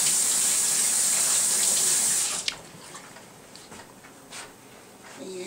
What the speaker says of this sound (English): I'll just wash my hands again.